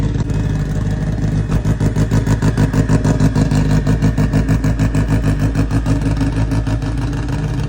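A loud Subaru STI engine with a 60mm external wastegate dumping out the front runs steadily with a rapid, pulsing exhaust rumble that never lets up, with no pauses and no talk.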